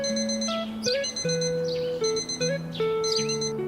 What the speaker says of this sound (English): My morning always begins with the sound of my alarm.